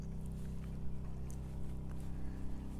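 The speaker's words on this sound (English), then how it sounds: "I had to get the Predator generator going" A Predator portable generator runs outside an RV on a freezing morning, a steady loud droning engine hum with a constant low rumble throughout, close by and without talking.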